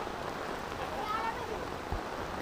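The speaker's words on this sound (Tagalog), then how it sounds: "Inabot tayo ng matinding ulan, no?" Heavy rain pours during typhoon flooding in a street in Caloocan, a dense, steady roar of water and spatter, with faint voices under it.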